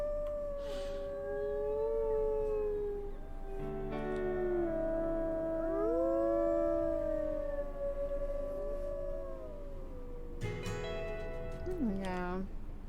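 Wolves howling in the video game WolfQuest, long wavering cries rising and falling, several voices overlapping and stacking into a chorus near the end, heard at a moderate distance.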